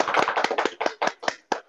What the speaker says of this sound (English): I'll ask my co-panelists here to unmute themselves and clap for you